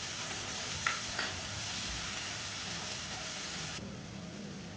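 Onion with turmeric and chili powder sizzles faintly and steadily in a frying pan for an okra dish. It is an even, quiet hiss, with a couple of small clicks near the start.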